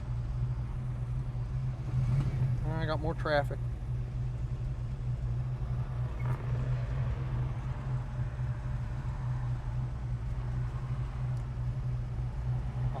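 A 1967 Chevrolet Chevelle SS engine idles with a steady low rumble throughout, joined briefly by a short spoken remark and a passing squeaky sound.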